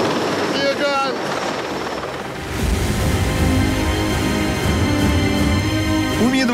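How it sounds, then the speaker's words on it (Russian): Heavy thrumming Mi-26 helicopter rotor and twin-engine roar, loud and steady, with voices talking over it. "Ми-26 опускает восьмерку все ниже и ниже, когда мы говорим, что это самый большой вертолет в мире"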